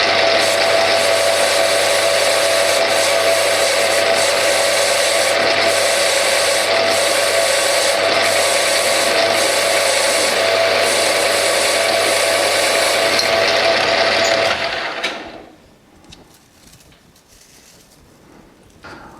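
Metal lathe cutting grade 2 titanium with an aluminum-cutting insert, throwing long hot chips: a steady, loud grinding machining noise runs unbroken for about fifteen seconds, then stops abruptly, leaving quiet shop background.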